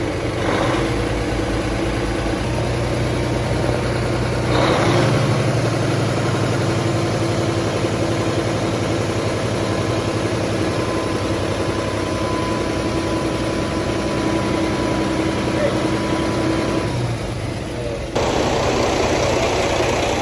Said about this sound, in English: We're gonna go ahead and idle it up a little bit.